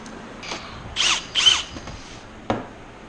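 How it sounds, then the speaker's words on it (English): A power drill bores out holes in aluminium wing ribs during assembly of a Zenith 750 Cruzer kit plane, heard as two close, loud bursts of about a third of a second each, framed by light clicks and a sharp tap. "we're gonna have to drill out a couple of these holes that we forgot"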